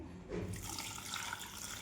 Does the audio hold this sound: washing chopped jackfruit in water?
yes